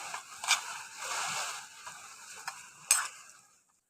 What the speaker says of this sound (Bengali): এই উপকরণগুলো দিয়ে এখন চিংড়ি মাছটাকে ভালো করে মাখিয়ে নিচ্ছি।